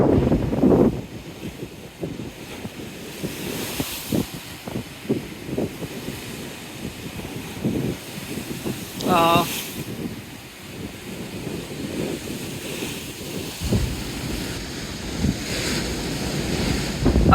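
Strong wind buffets the microphone while waves surge and break against a seawall at Teignmouth, a loud, continuous roar with irregular gusts and crashing swells and no talk.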